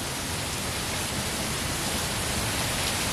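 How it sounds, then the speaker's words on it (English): Heavy rain pouring down on a rainy day, a dense, steady hiss of falling water that fills the whole scene without pause, with no voices. "It's raining so hard."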